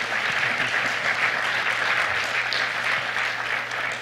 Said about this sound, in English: Go ahead, give her an applause, and think about your question.